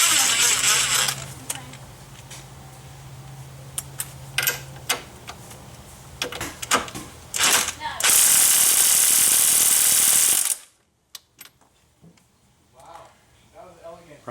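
Ratchet wrench with a 21 mm socket cranking on front strut bolts of a 2005 Chrysler Town & Country, a run of clicks building to a loud sustained grinding burst, then near silence with a few faint taps.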